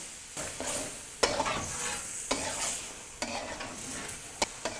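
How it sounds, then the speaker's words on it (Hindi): Tomatoes stir-fried with chicken in oil for a karahi give a steady sizzle and frying hiss, broken by a few sharp clinks and scrapes of a spoon against the pan. "अब हम इसको चिकन के साथ मिक्स करके भून लेंगे।"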